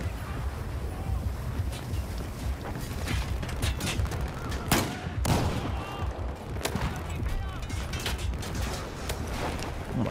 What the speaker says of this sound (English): I keep getting shot with an explosive and I can't see where it's coming from